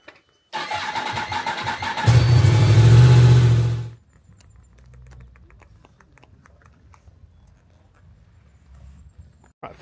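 Motorbike engine cranking and catching, then revving loudly for a couple of seconds before cutting off, followed by quieter handling noises and faint clicks close by.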